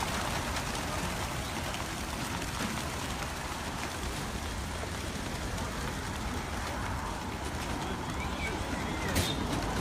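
A dense, steady rush of flapping wings fills the air as more than 2,000 racing pigeons are released from Greater Melbourne crates, a continuous loud wash with scattered coos.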